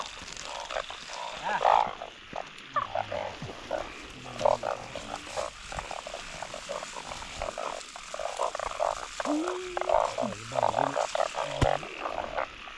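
Many narrow-mouthed frogs croak together at a pond in Thailand, a dense chorus of repeated rough calls that rise and fall steadily over low background noise.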